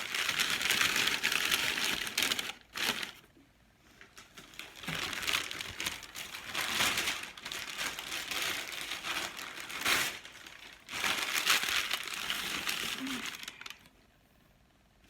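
Packing paper is crumpled and stuffed into a shipping box around giant paper flowers, giving bursts of close, crackly crinkling separated by short pauses.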